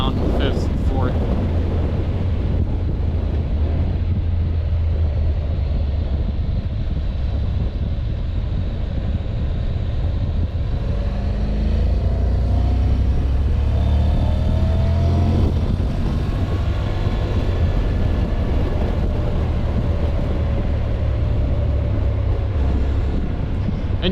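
Honda CTX700 DCT motorcycle (2014) at road speed, a steady loud engine drone under heavy wind buffeting that shifts in pitch as the gearbox drops gears, with no pauses.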